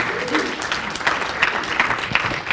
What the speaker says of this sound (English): Let's have a round of applause for Mr. Pete Garcia, president of the Victoria Foundation.